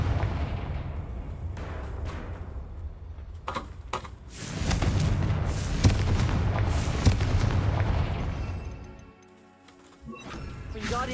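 Confringo blasting spell explosions in Hogwarts Legacy, a series of loud booming blasts and crashes over steady game ambience, heaviest in the middle, then a brief lull before more impacts.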